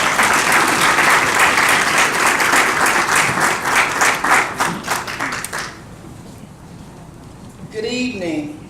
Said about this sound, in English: Big round of applause for Angela.